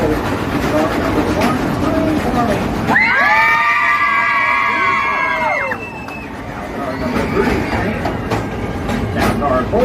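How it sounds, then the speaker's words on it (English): A crowd of passengers screams and hollers together for a few seconds over the steady rumble and squealing of a train in a tunnel, then the roar of the ride continues. "Yeah, that was some real good screaming. I'm riding with a bunch of loudmouths."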